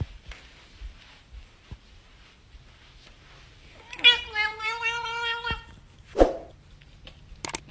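A cat lets out a strange, drawn-out warbling vocalization with a clear harmonic tone lasting about a second and a half, followed by a short sharp squeak and a brief noisy burst at the end, all close and fairly quiet.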